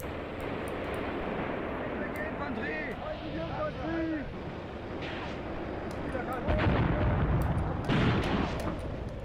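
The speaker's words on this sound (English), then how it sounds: "especially with gunfire coming down from the hill" Artillery and gunfire in the tank wargame Graviteam Tactics: Mius Front, a steady rumbling barrage with distant booms and a heavier blast near the end, heard under continuous voice chatter.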